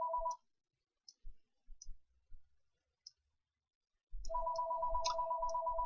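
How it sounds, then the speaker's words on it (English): A telephone rings in short paired electronic bursts, one at the very start and another continuous run near the end, loud and close, with scattered clicks and light handling noise in the quiet between rings. "Apparently I have a phone call."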